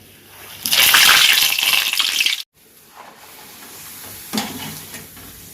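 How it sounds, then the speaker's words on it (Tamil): Appalam (papad) dropped into hot oil, a loud burst of sizzling and bubbling for about two seconds that cuts off abruptly, followed by softer crackling and a brief second sizzle. "அப்பளத்தை பொரிச்சு எடுத்துருவோம்"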